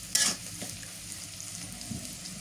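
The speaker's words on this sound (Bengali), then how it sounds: "শুটকিটা ভাজা হয়ে গেছে" Dried fish fries in a pan over a wood fire, a soft, continuous crackling sizzle that opens with a brief louder spatter, heard up close without talk.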